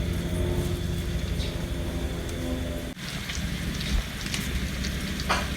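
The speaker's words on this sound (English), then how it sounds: "So we're going to caramelize our onions." Onions caramelize in a frying pan with a steady crackling sizzle, close and moderately loud, dipping briefly midway before resuming with scattered pops.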